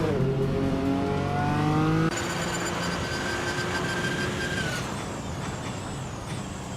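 A 2016 Porsche 919 Hybrid race car from a racing video game screams at high revs, its engine note climbing through gear changes and then holding a steady, loud whine throughout.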